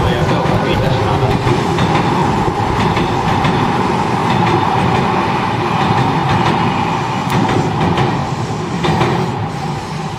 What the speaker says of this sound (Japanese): 2番ホームに電車が参ります。